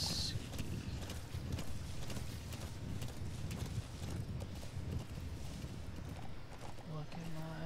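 A horse gallops in Metal Gear Solid V, a fast, steady hoofbeat rhythm sitting under game noise while someone talks throughout.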